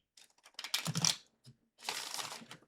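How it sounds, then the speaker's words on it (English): Tarot cards riffle and slap together in two bursts of crisp shuffling, close and moderately loud, with a short pause between them. "I'm going to give this one more shuffle before we draw."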